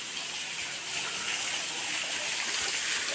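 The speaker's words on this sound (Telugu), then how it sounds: "ఇక్కడ చూడొచ్చు ఎంత మంచి వాటర్ ఫాల్ ఉందో." A waterfall and flowing stream on a forest trek at Ahobilam make a steady, even rush of water that holds throughout, with no talking.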